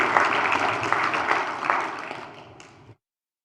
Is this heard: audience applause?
yes